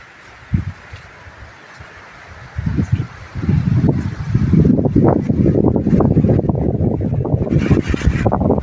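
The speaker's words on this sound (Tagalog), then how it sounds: "Hangin pala dito." Strong gusty wind buffets the microphone in a bitter gourd and eggplant field, starting quietly and building into a continuous low roar for the second half.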